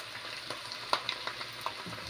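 Freshly cooked seasoned meat for homemade Arabic tacos sizzles and crackles softly after coming off the heat, with scattered small pops and ticks over a steady quiet hiss, close by.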